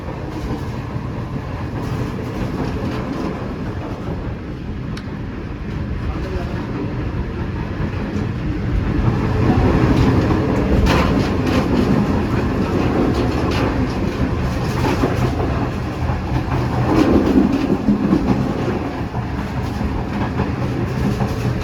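The 28 Down Shalimar Express on the Lahore-to-Karachi line runs at speed toward Multan, heard from inside a carriage as a continuous loud rumble with steady clattering of wheels over rail joints throughout.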